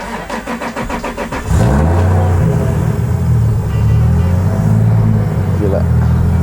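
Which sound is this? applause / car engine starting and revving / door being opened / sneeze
car engine starting and revving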